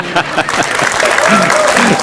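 Brief burst of audience applause at a political talk in Indonesia, clapping mixed with a speaking voice over it throughout.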